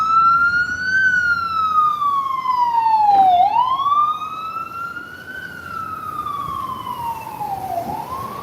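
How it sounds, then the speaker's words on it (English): A loud wailing emergency vehicle siren sweeps up and down in pitch, with a second siren tone cutting in midway, over steady road rumble in Queens, New York. "if you love loud ass sirens, then this is the right stream for you"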